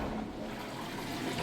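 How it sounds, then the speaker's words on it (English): A Kenmore HE washing machine drains its water with a steady rushing, gurgling flow, loud and constant without pause. "Alright, we got the water draining out. You're running nice and fast on that drain there."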